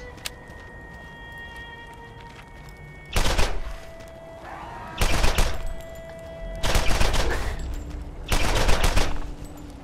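Gunfire in Borderlands comes in four loud, evenly spaced bursts of rapid shots over a quiet hum of game ambience, with no talking.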